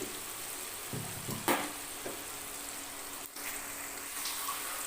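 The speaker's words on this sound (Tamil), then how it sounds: "கொஞ்ச நேரம் அப்படியே வதங்கட்டும் தக்காளி" Chopped tomatoes sautéing in a pan for a gravy, a steady close sizzle and hiss with a few soft stirring scrapes and taps against the pan, no voices.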